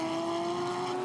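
GT race car at Okayama during qualifying, its engine holding a steady, loud drone with a strong sustained tone, continuous through the whole short stretch with no talk.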